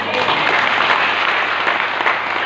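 A church congregation breaks into steady, dense applause that fills the room evenly from start to finish, with no voices standing out.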